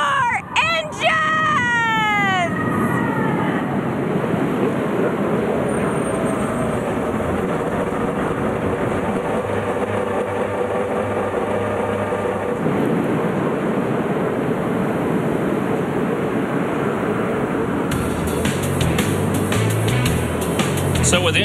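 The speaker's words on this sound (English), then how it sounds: "So with engines started, we're just about set to go racing" Several Indy Lights race car engines fire up and rev at once at Kansas, then settle into a loud, steady roar mixed with gusty wind noise.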